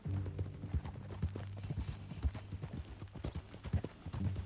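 Horse hooves clip-clopping in Red Dead Redemption 2, a brisk, close rhythmic patter of steps over a low hum, continuous and evenly paced.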